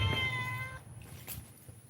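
A neighborhood cat gives one clear, close meow at the start, followed by quiet outdoor background with a faint rustle.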